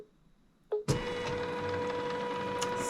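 An embroidery machine stitches around the edge of fabric for dog poop bag holders, starting with a short click and then settling into a steady, close mechanical whirring hum that runs without pause.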